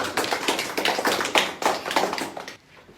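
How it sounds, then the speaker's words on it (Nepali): An audience claps together at a political party launch rally in Nepal, a dense, steady round of applause lasting about two and a half seconds before it breaks off sharply into near quiet. "उहाँहरू सबैलाई एकपटक ताली बजाएर"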